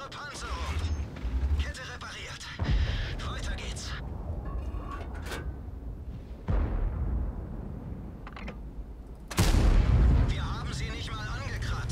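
World of Tanks battle: heavy HE cannon shots boom in several deep, loud blasts with rumbling, mechanical tank noise between them, while someone comments over the action.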